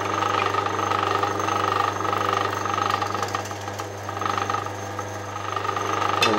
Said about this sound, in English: I'm using a step drill, a stepped hole cutter, and a little bit of light oil,